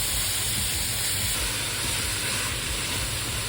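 Ground beef, 500 grams, browning in a pot with softened onions: a steady, continuous sizzle and hiss that holds at one level throughout, with no talking over it.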